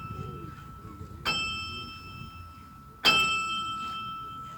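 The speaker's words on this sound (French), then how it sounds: "le battant qui vient frapper la cloche de l'intérieur" Two loud metallic strikes of a carillon bell hit by its clapper from inside, each ringing out with a long shimmering decay over a low background murmur.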